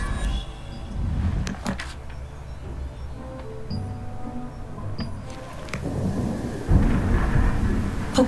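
Thunder rumbles low and heavy through steady rain, with sharper crackles and a louder roll building toward the end.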